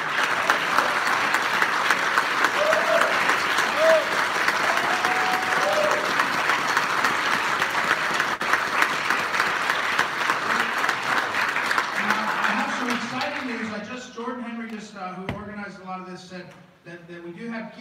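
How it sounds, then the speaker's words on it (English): Audience applauds steadily at a Christmas festival concert, a dense sustained clapping that fades out near the end as a voice begins talking. "Let's have another round of applause."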